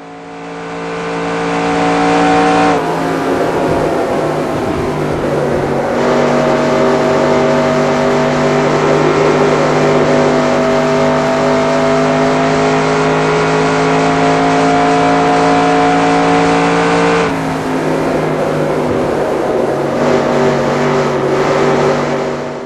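Race car engines lapping Lowe's in NASCAR Racing 2002, a loud continuous droning roar held at steady pitch with abrupt shifts in tone as the car moves around the track.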